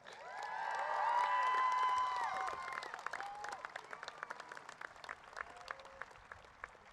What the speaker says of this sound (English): give a big round of applause and a welcome to Michaela Bolton and Jamila Clark